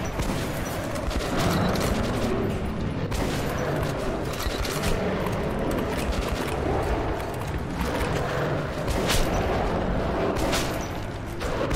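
Sustained gunfire in the Metro 2033 Redux video game, a dense continuous volley of shots with heavy rumbling blasts, loud and close throughout with no pause.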